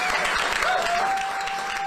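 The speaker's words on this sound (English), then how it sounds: "Give them a round of applause" Crowd applause fills the space, dense and steady, with a sustained whistle-like tone running through it.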